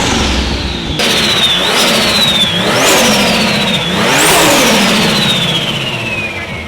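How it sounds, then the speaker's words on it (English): A Toyota JZX110 rear-wheel-drive Camry with a Turbosmart turbo revs repeatedly nearby. Each loud engine climb ends in a rising turbo whistle, and the whine sweeps up and falls away across several pulls. "All you hear is a Turbo Smart turbo now."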